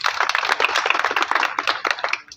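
Applause from an audience at a farmers' service centre event in Sirsa, Haryana, welcoming Ramesh Gundal: a dense patter of many hands clapping steadily for a couple of seconds, then fading out at the end.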